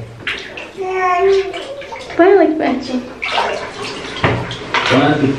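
Water splashes and sloshes in a bathtub as a child bathes, with sporadic close splashes and gurgles. A child and an adult talk over the water.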